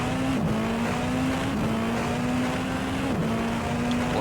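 A race car in the Rennsport sim racing game drives steadily, its engine a continuous drone with brief pitch dips as it shifts or lifts, heard alone without talk.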